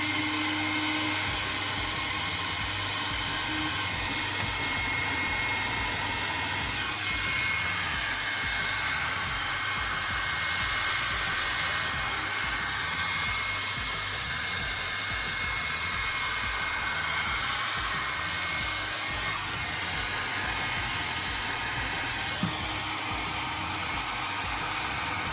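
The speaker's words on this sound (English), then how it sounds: "I could heat up with a hair dryer and try to melt" A hair dryer blows steadily to melt ice inside a freezer during a repair, a loud, continuous rushing hum with slight shifts in tone as it moves, running alone without speech.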